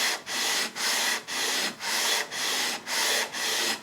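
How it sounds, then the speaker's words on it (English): Ebony guitar fretboard sanded back and forth against a fence to a 10-inch radius, steady rhythmic rasping strokes, about eight even passes with short gaps, close and loud with no talking. "I hold pressure that way against it and sand back and forth"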